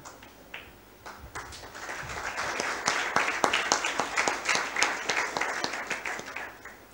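Church congregation clapping, starting thin with a few scattered claps and building into fuller, louder indoor applause with distinct sharp hand strikes, then easing slightly near the end.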